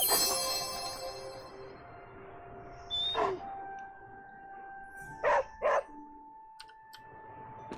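Charlie the dog in the video game Midnight Suns gives a few short barks over quiet background music: one bark, a pause, then a quick pair of barks near the end.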